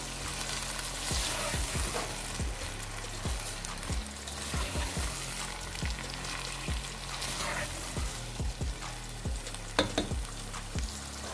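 Vegetable noodles with ginger-garlic paste being mixed and cooked in a pan, a constant sizzle under a low hum, punctuated by frequent sharp utensil knocks and scrapes.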